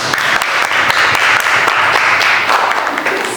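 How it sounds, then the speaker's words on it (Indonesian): An audience in a school classroom claps steadily and loudly throughout, a dense continuous applause with no talking over it. "Silakan beri aplaus untuk Ilham."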